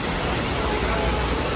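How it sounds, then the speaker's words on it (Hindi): Heavy rain pours outdoors in Mumbai, a steady dense hiss of downpour filling the scene evenly from start to finish, with no voices over it. "एंट्री होते ही यहाँ पे हो चुकी है बारिश बहुत ज़ोरों से"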